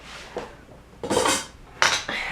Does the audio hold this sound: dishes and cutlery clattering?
yes